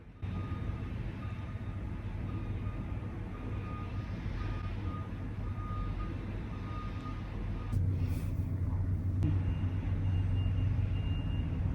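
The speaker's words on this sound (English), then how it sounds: "Another truck backing up" A truck's reversing alarm beeps steadily at a distance, faint and repetitive over a constant low engine and traffic rumble, with a brief hiss of air partway through.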